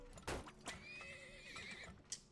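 A horse in the oil-tycoon game Turmoil gives a clear, close whinny with rising and falling pitch, while a few sharp hoof clops land around it. It is short and alone, with no talking.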